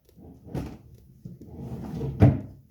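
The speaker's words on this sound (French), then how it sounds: "J'ai mon tiroir qui bloque." A sticking wooden drawer is tugged open and shoved shut indoors, giving two close scraping, thudding knocks with a dragging rub between them and no talk.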